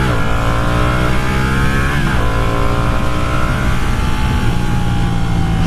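A Ducati Panigale 959 sport motorcycle engine roars loud and close on a test ride, a continuous high-revving drone that holds steady throughout.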